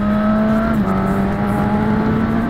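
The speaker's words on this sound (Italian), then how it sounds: "Senti come urla il quattro cilindri" A Suzuki Katana 1000 four-cylinder motorcycle engine wails steadily at close range, its pitch climbing, dipping briefly, then holding a sustained scream.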